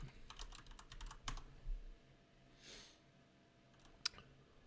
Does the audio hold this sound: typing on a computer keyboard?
yes